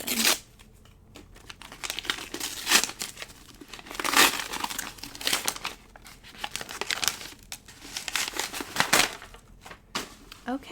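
A heavily taped book package is torn open, with loud bursts of crinkling and ripping paper and tape coming in irregular clusters, close to the listener, and only brief breaths or murmurs between them.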